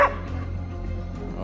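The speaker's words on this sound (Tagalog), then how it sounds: "Tahol." A single short dog bark sounds right at the start on the stage of a TV game show, followed by a low, quiet hum.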